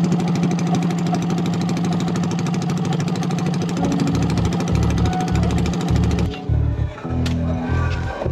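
Yamaha Nmax V2 scooter engine running without a muffler after a shaft drive replacement, a loud, rapid, harsh mechanical clatter up close that turns into uneven revs and sputters near the end.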